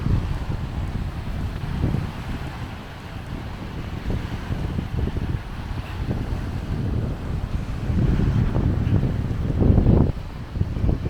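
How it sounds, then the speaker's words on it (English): Strong wind gusts roar and buffet the microphone outdoors at Foss State Park, a continuous heavy rumble that swells louder near the end. "It's windy!"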